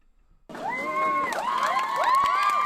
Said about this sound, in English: So now the audience are applauding.